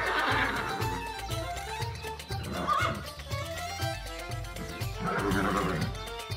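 A horse neighs amid a loud, busy mix of music and background noise, with several whinny-like bursts spread across the clip.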